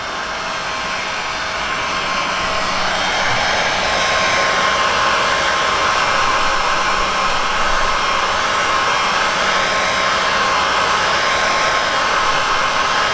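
A heat gun warms 3M adhesive tape on a BMW M340i rear bumper, giving a steady, loud, close airy roar with a faint motor whine throughout, no talking.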